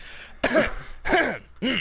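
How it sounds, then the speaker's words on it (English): Three harsh, close coughs into a microphone, each a short throaty burst separated by brief pauses, loud and dry with no talk. "Sorry, coughing in the mic."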